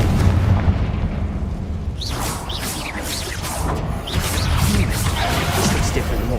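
A Confringo fire spell blasts in the Hogwarts Legacy game on PS5, a loud, dense burst of roaring, crackling energy with rising whooshing streaks and sharp flares repeating over several seconds amid busy in-game effects.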